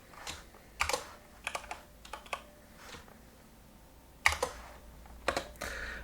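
HTML code is typed on a computer keyboard in short bursts of close key clicks separated by quiet pauses, with no speech.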